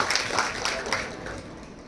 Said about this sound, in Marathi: जोरदार टाळ्या वाजवूयात आपण विहानसाठी